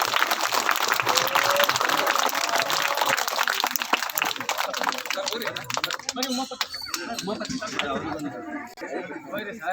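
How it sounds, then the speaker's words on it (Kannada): Schoolchildren clapping loudly at a school function in Karnataka, a dense burst of applause filling the first several seconds before thinning into scattered claps and chatter. "ಮಕ್ಕಳಿಂದ ಜೋರಾದ ಚಪ್ಪಾಳೆ"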